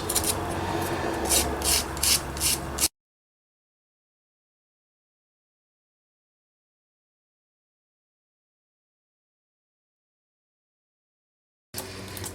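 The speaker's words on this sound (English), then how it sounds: "I'm going to sand the pink ones instead of using the ink around them, just a little bit." Altered domino pieces are sanded by hand in short rasping rubs, close and dry, for about three seconds. A long silence follows, then the rubbing briefly starts again.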